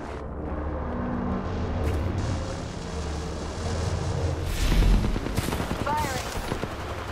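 Gunfire in Apex Legends, with a low rumble giving way to a loud cluster of rapid shots near the middle and more crackling fire after, while a voice talks over part of it.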